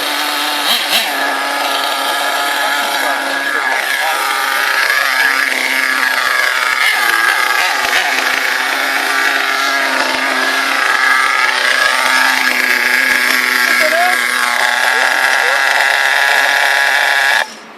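The nitro engine of an HPI Savage 5.9 RC truck runs hard and screams continuously at high revs, its pitch rising and dipping in sweeps, loud and close, before cutting off abruptly at the end.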